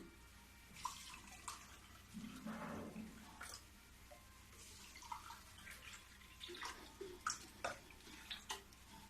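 Cold water is poured into two glasses holding homemade pineapple juice powder in a quiet room, with a soft splashing stream and a few small clinks and taps.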